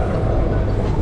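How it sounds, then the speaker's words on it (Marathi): A train arriving at Badlapur station, a loud close rumble of heavy wheels and carriages rolling steadily. "खूप वेळ थांबल्यानंतर आम्हाला ट्रेन भेटलेली आहे"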